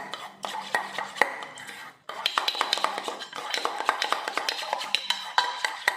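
A spoon mixing vitamin E capsule oil in a small bowl: close, repeated clinks and taps against the dish, with quick rhythmic scraping strokes and a brief pause partway through.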